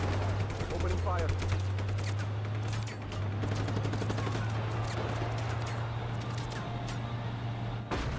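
Rapid automatic gunfire in the open-world action game Just Cause 3, bursts of shots rattling steadily under game radio chatter and a constant low engine drone.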